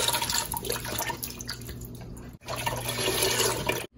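Vegetable stock pours steadily into a soup pot, a close continuous liquid splash with one brief break before the stream resumes, heard alone.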